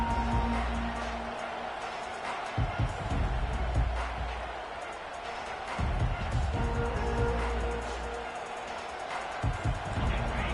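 Stadium crowd noise at a football game, a steady broad roar of the home crowd with swelling pulses, heard under a commentator's voice.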